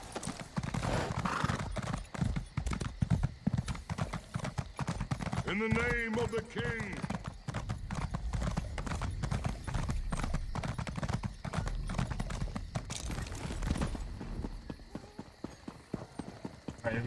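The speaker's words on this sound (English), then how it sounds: "let's go and hop on our horse." Galloping horse hooves in the Elder Scrolls Online game, heading toward Daggerfall Castle, a steady rapid clip-clop throughout with a brief whinny midway and a shouted game voice line over it.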